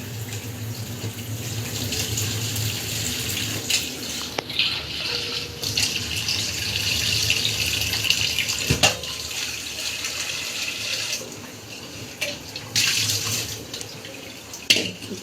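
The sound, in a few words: draining water from boiled taro leaves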